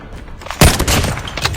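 A single sharp gunshot in a Call of Duty one-on-one match cracks out loudly and close, followed by a brief rumbling tail under quiet game background.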